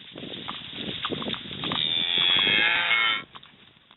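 Cattle out in a field, with scattered low grunts giving way to one long, loud, drawn-out moo from a nearby cow that cuts off abruptly, followed by quieter ambient sound.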